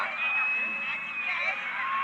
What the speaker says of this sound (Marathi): वारल्याने सुद्धा जल्लोष साजरा केला आणि खायल्याने सुद्धा जल्लोष साजरा केला